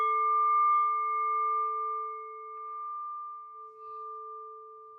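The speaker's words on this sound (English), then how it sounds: "And by the sound of the bell," A single bell struck once rings out with a clear, pure tone, its sustained hum slowly fading while nothing else is heard.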